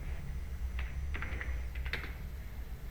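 Keys on a computer keyboard clack in short bursts as C code is typed, soft clustered taps over a steady low room hum with no talk.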